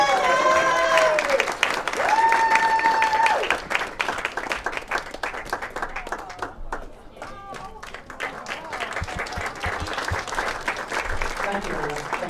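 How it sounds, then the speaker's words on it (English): Audience applause at a judo celebration and charity gala indoors, a sustained crowd clapping with cheers and whoops, rising and thinning, while people call out and talk over it. "a massive round of applause for her"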